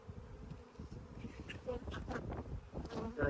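Honey bees in an abandoned hive box give a low, dense buzz close to the listener, steady with small swells, heard on their own without talk.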